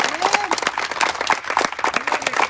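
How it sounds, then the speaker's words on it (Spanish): Congregation clapping at a Spanish-language Sunday church service, rhythmic group applause in steady beats with a singing or speaking voice woven through it. "dale palmas al Rey de Reyes"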